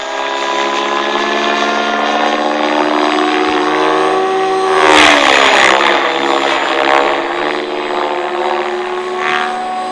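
A helicopter spinning out of control: rotor and engine roar steadily and loud, swelling into a harsher, churning surge midway before settling back to a constant drone.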